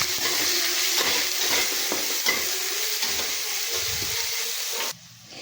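Chopped onions sizzle in hot oil with cumin seeds, bay leaf and crushed ginger-garlic for a small fish curry, a loud steady frying hiss broken by scraping stirs, cutting off abruptly near the end.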